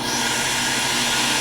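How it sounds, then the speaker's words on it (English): Air rushes back into a freeze dryer's vacuum chamber after drying avocados and citrus, a loud continuous broadband hiss heard close and alone. "let air back into the vacuum chamber."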